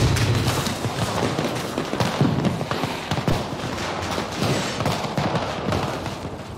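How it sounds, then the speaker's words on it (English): Fireworks show in the video game Dying Light: The Beast, with dense continuous crackling and booming bursts that rumble steadily and loudly without a break, and no talk. "you'll be given a little fireworks show"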